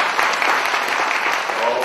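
Comedy club audience at a stand-up tournament applauding, a dense steady patter of many hands clapping at close range, brief and even, with a faint voice mixed in.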